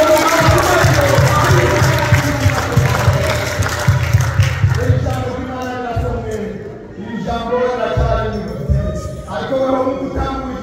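A church congregation claps together in praise at a service, loud rhythmic clapping and crowd noise for about five seconds, then thinning under a voice speaking and singing.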